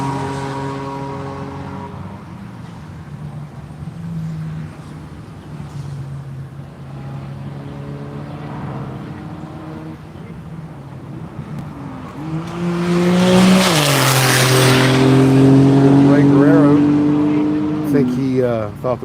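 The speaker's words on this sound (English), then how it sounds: "Jim Roberts, Jim Bob Racing Corvette" Jim Bob Racing Corvette race car at VIR during a One Lap of America session, engine note rising and shifting as it passes close and loud, with a commentator talking over the steady drone beforehand.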